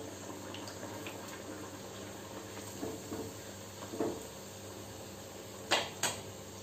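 Potato puris fry in hot oil with a steady, faint sizzle, broken by a few soft bubbling bursts and two sharper pops near the end.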